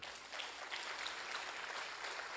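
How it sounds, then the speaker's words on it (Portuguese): Church congregation applauding during a sermon, a soft, steady wash of many hands clapping at a distance, continuous for a couple of seconds. "Aplaude a Deus aqui."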